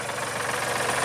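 A Kubota L3901 compact tractor's diesel engine idles steadily, a loud, even, close rumble with a fast knocking pulse and no voices.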